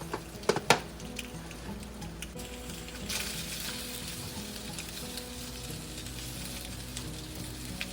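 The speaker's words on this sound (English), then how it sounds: "I think that I'm gonna fry up 2 Spam, not 2 thin slices like that" Slices of Spam fry in a pan in a home kitchen, a steady dense sizzle with a few sharp clinks of a utensil at the start, then continuous crackling spatter throughout, close and fairly loud.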